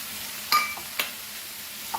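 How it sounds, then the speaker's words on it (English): Mushrooms fry in a pan for a chicken kheema, a soft steady sizzle close by, broken by a couple of sharp clinks and scrapes from stirring. "along this I want to fry my mushroom too"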